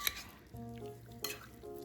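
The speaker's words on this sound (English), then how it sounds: "I'm just gonna toss this and make sure everything gets coated" Fish stew ingredients tossed in a bowl to coat, giving soft wet stirring and clinking scrapes at close range, with a louder burst near the start and another midway.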